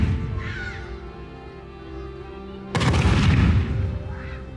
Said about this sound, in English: There's that whoosh and the thud.